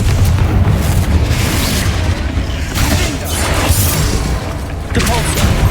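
Confringo fire-blast spells in Hogwarts Legacy combat go off as loud, heavy booms and bursts, several in a row over a thick layer of battle effects.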